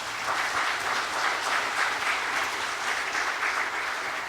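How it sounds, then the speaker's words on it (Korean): A church congregation applauds its Sunday school teachers during a Sunday worship service, a steady, dense round of clapping from many hands that fills the room evenly throughout without a break. "마음을 담아서 박수 한번 해 주시기 바랍니다"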